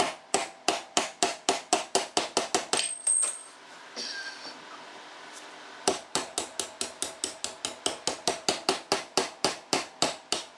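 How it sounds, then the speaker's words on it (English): A hammer taps a brass drift to press a bearing out of an RB26 ITB throttle-body shaft, giving a steady run of sharp metallic strikes, close and loud, with a short pause in the middle before the tapping resumes. "put the brass on there, let the hammer do the work"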